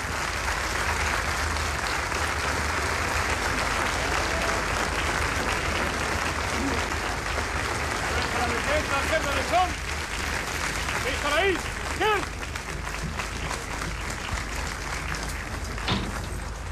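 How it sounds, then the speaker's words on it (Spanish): Sustained crowd applause at a Chilean military parade honoring the army, a dense, continuous roar of clapping heard over an announcer's voice and distant music, steady throughout with a brief swell near the end. "Escuchemos este aplauso."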